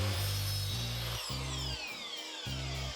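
Power saw trimming a wooden fence picket, with loud, steady cutting bursts that stop and restart three or four times in a close, repeated rhythm.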